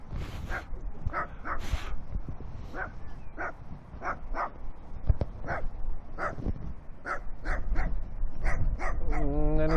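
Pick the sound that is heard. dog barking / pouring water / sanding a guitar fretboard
dog barking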